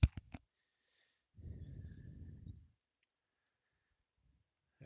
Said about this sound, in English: Let me shuffle these up.